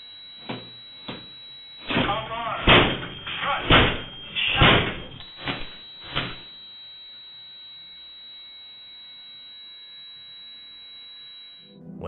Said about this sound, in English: Initially, the burglars tried to break in by kicking the door.